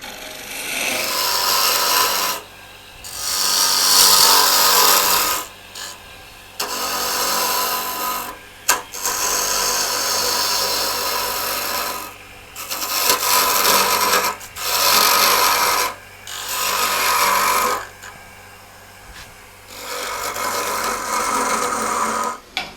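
A mesquite wood bowl spinning on a lathe at 1400 RPM, with loud, close scraping cuts arriving in repeated bursts of a few seconds each, separated by short quiet gaps.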